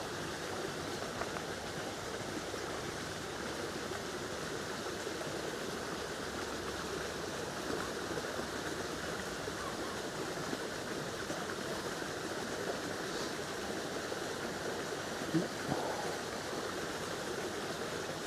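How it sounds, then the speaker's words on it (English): Steady, continuous rush of running water, like a stream or small waterfall, holding an even level throughout with no voices. "Nothing could be much nicer than the natural sound of water in the background."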